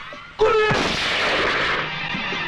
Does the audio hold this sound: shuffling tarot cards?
no